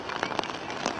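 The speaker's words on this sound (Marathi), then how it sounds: "पाऊस आहे आता, थोडं वाढलं आहे" Rain falling around the Gateway of India in Mumbai, a steady hiss of drops on the surface with faint crackling spatters, heard close over the full second with no talk.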